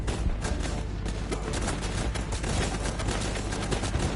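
Gunfire in the video game Guns Up!: dense, continuous volleys of rapid shots and bursts, steady and moderately loud throughout.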